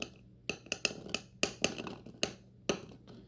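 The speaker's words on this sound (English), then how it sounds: "we have our mortar and pestle where we are going to add our whole garlic cloves" Whole garlic cloves, large ones, drop into a stone mortar and pestle: a run of sharp, close knocks and clinks at uneven intervals, about seven or eight distinct hits standing out against a quiet room.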